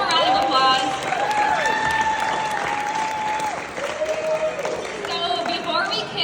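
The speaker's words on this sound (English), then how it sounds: "Give them a round of applause." An event audience claps in a steady, sustained round, heard from within the room, with tonal sounds and background voices running underneath.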